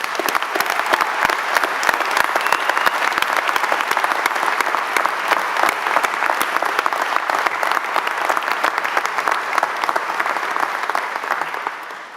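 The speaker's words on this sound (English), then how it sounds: "So let's give them a big round of applause." A graduation ceremony audience gives long, even applause, a dense wash of many hands clapping at close range that continues for over ten seconds before tapering off.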